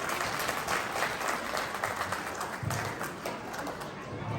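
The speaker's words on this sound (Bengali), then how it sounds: "তো আপনাদের জন্য একটা জোরে করতালি হোক" Audience applause at a community family night in New York rises as a dense spread of claps and crowd noise, fairly distant, with some voices mixed in.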